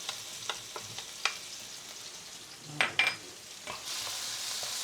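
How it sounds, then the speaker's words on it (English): Garlic and chili go into hot oil for Thai basil roast pork, with a few light clicks and taps before a sudden hissing sizzle rises and holds steady near the end, no voices. "Once the oil is heated up, we can put in the garlic and also chili."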